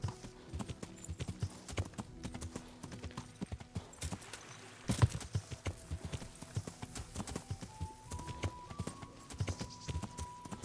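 Horse hooves clip-clopping in the medieval video game Kingdom Come Deliverance, a steady rhythmic patter of hoofbeats at moderate volume, carrying on continuously with faint background music.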